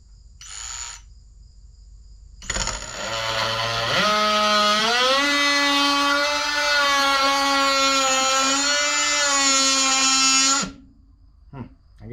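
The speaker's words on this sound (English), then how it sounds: "So I've got a metal blade for this oscillating tool." An oscillating multi-tool fitted with a metal blade cuts into metal on an Oliver 7300 combine, a loud steady buzzing whine that starts up, rises in pitch after a second or so, holds for about seven seconds, then stops.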